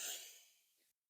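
One soft inhaled breath during a qigong exercise, a brief airy intake that fades quickly and stops.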